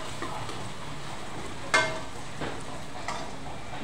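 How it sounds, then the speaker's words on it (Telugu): Onions frying in a pan for curry give a steady, low sizzle with soft scrapes and one sharper clatter of a stir, heard alone at a moderate level. "ఆనియన్స్ కొంచెం బాగా ఫ్రై అయితే కర్రీ చాలా టేస్ట్గా బాగుంటుందండి"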